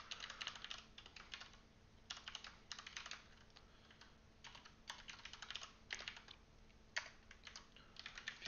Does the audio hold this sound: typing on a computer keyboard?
yes